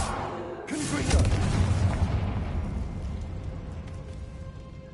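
A Confringo blasting spell in Hogwarts Legacy goes off in one sudden, loud explosive burst with a rolling, rumbling tail that slowly fades under ambient game sound.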